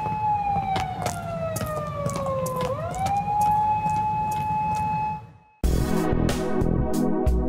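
Police sirens wail inside the video game Yakuza 2, a loud, steady tone sweeping down and back up, then cutting out abruptly before a burst of dense, clattering game sound takes over.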